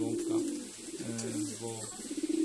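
Pigeons coo inside a pigeon loft, low throaty rolling calls repeating close by and filling the short stretch without talk.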